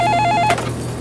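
An old-style telephone bell rings in short repeated bursts, loud and close, then cuts off partway through and leaves a steady low hum with no one speaking.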